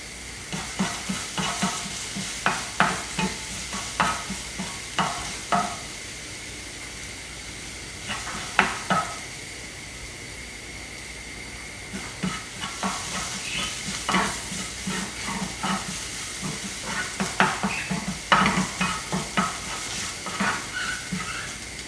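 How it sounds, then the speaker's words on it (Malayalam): Chicken lollipop sautéing with garlic in oil in a pan, a steady sizzle broken by bursts of spatula scraping and knocks that come in clusters, with a quieter stretch midway. "നന്നായി സോട്ട് ചെയ്തിട്ടുണ്ട്. നല്ല സ്മെല്ല് വരുന്നുണ്ട് ഗാർലിക്കിൻ്റെ."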